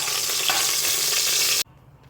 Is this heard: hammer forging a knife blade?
no